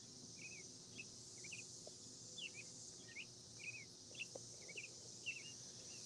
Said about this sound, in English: Listening to the cicadas sing their love songs.